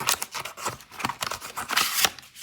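A plastic Happy Meal toy packet is torn and crinkled open, a dense run of close, loud rustling and crackling bursts with no talking.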